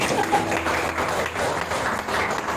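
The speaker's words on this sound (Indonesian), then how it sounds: "Kita lagi kasih aplaus buat Samuel ini" Church congregation applauding during a Sunday worship service, a steady dense wash of clapping filling the room for a couple of seconds without a break.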